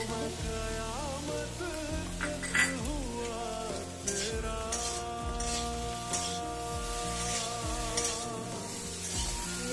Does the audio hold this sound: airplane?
no